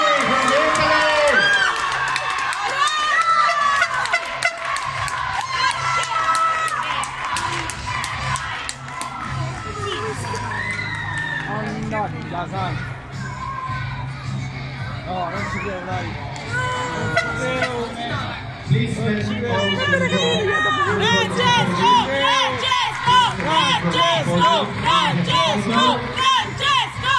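Crowd cheering, whooping and clapping at a European dance sport championship in Latin style as the gold medal winner from Italy is announced, a steady loud roar with shouts and a voice over a PA over music.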